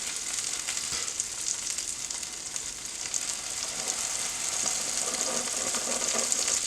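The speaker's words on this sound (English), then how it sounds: "We'll let this Gouda fry on the griddle." Gouda cheese frying on a griddle under a ciabatta bun, a dense steady sizzle and hiss that holds and slowly swells, close up with no talking.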